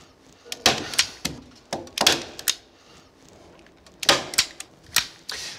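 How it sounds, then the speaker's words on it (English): A staple gun fires into floor joists while underfloor insulation is fixed in place. Sharp, loud, close clacks come in irregular pairs and clusters, with short quiet gaps between them. "when you're installing your staples, just make sure they only go into your joist"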